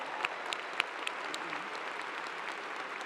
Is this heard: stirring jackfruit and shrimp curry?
no